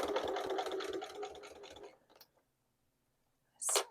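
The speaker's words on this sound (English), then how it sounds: "I have my machine set so that my needle and presser foot constantly stay down as I'm doing this" A sewing machine stitches a fabric bag handle with the needle and presser foot held down, whirring close and steadily for about two seconds before stopping, followed by silence and a brief rustle of handling at the end.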